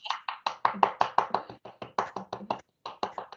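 One person claps hands alone in a quiet room at a primary headteacher conference, giving a steady run of sharp, close claps with a short pause near the end.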